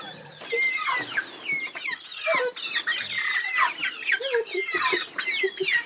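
Several free-range homestead chickens cluck and chatter continuously nearby, a busy overlapping mix of squawks and clucks with no pauses.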